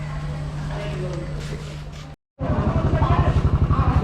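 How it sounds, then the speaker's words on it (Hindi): A motorcycle engine starts up and settles into a loud, close, rapid pulsing idle after a brief silence, with steady broadband noise before it. "एक बाइक का स्टार्ट हो रहा है"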